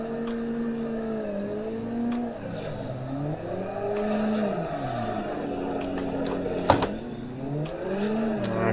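Race car in the Assetto Corsa driving game at a drift event, engine pitch sweeping up and down through shifts and downshifts, with a sharp click and brief tire noise mid-way, steady and up close.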